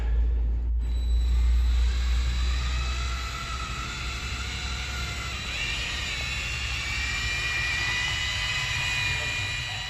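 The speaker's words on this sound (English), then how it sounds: "So we got our drill set up, hopefully a charged battery, and we'll get it mixed up on low." A cordless drill mixes Lizard Skin coating on low speed, a steady close motor whine with a rising, wavering tone over a heavy low rumble, continuing the whole time.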